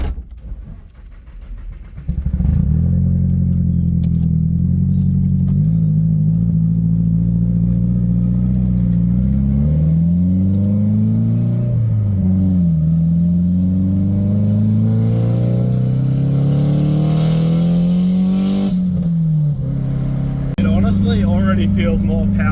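A 180 car engine with a newly fitted intercooler accelerates hard, its loud droning note climbing through several gear changes with rising and dropping pitch, recorded from inside or close by for over twenty seconds.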